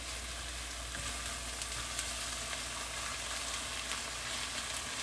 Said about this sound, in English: I'm just going to use my little grill pan inside.